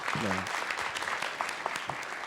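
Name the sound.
audience applause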